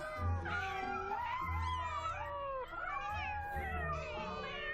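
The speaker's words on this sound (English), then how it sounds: "Oh, the cat." A cat meows repeatedly, several drawn-out, wavering meows in close succession, loud and close, with no other sound around them.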